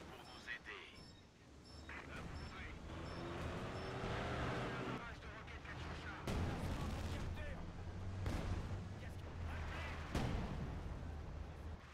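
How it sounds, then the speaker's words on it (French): Booming Katyusha rocket artillery launches and heavy blasts roll out in the video game Company of Heroes 2 over a rumbling engine-like background, with several sharp bursts spaced across the stretch. "j'ai tiré avec les deux Katyusha ici"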